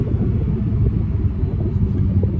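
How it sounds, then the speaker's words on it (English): A deep, steady exhaust rumble from a 2022 Audi R8 V10 Performance with an aftermarket valved exhaust held open, loud and close, holding a constant low hum throughout. "you get this incredible V10 hum"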